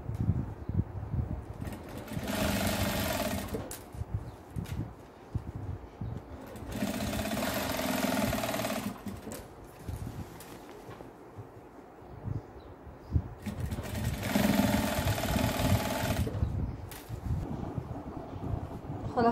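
Sewing machine stitching pieces of a child's outgrown clothes, running in three sustained bursts with pauses between, fairly loud and steady with no talking.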